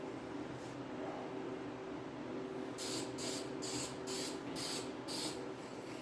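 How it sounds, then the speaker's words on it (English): Bursts of spray paint coat a timing cover from a 1968 Pontiac GTO, about six short rhythmic hisses close by over a steady background hum. "I decided to lay it down and paint it so the paint would puddle a little better"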